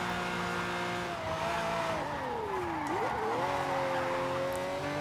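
A car in Forza Horizon 5 launching with wheelspin, its engine droning steadily at one even loudness while the pitch sags, dips sharply and then recovers as the tires spin, with no talk over it.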